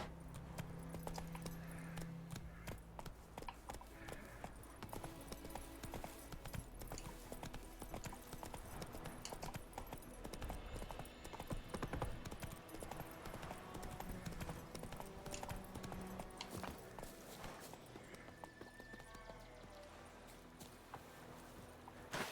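A horse gallops at a steady clip-clop rhythm through a Witcher video game, its hoofbeats continuous and fairly quiet under game ambience.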